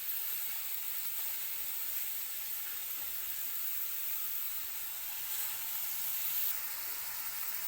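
Sliced onions dropped into hot cooking oil for a chicken biryani, giving a steady bright sizzle and hiss that holds throughout, close and continuous, with no talking over it.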